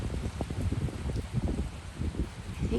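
Wind gusting through leaves on a stormy afternoon, a steady low rushing with soft rustling that swells and fades, close and fairly loud with no voices.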